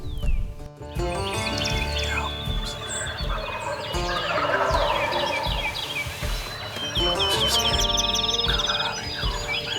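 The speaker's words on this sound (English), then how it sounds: "when these birds started gobbling, the first gobble, I mean, it like to blew us plumb out of the blind" Several wild turkeys gobble loudly and close by during a turkey hunt, overlapping rattling calls in repeated bursts, with other birds chirping faintly behind.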